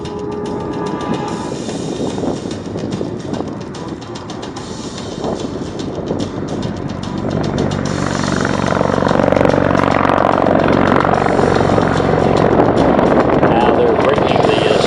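A USMC Bell Boeing MV-22B Osprey tiltrotor flies past in airplane mode at the 2016 Oregon International Airshow, a rumbling, throbbing rotor drone that swells louder as it nears, with an announcer talking over it.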